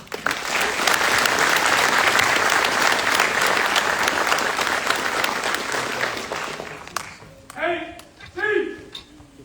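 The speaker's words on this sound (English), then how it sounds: "Please join me in a round of applause for the winning squad of the drill and ceremony competition." Crowd applause at a military drill sergeant academy graduation honoring a winning drill and ceremony squad, loud sustained clapping for about six seconds before fading, followed by a few short spoken words over a quiet hall.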